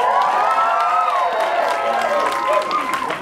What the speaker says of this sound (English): Elementary folks, let me hear you cheer.